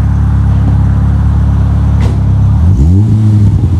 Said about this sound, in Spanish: Vamos a escuchar el coche un poquito, a ver cómo se oye esto.